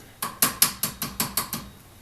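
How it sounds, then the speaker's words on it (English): A small hammer taps a magazine tube into place on a Winchester Model 190 rifle, making seven quick, evenly spaced metallic taps at close range with no voices. "take a little hammer and tap it in."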